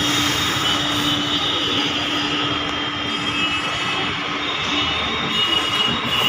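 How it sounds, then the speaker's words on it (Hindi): A Delhi metro train moves through Laxmi Nagar metro station with a steady, loud rumble and rail hiss that fills the whole stretch without pause, and no voices are heard. "मेट्रो भी जा रही है,"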